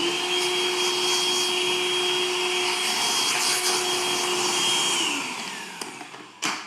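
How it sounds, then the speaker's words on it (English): A Ryobi Link shop vacuum runs in a workshop with a loud, steady whining roar close by, then winds down near the end with a few clunks. "I'll be using my Ryobi link vacuum right here a lot"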